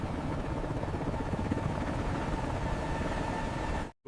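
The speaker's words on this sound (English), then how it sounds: "The world's most powerful helicopter, born in this very factory." A CH-53K King Stallion heavy-lift helicopter drones with a dense, steady rotor roar, loud and continuous, cutting off abruptly at the end.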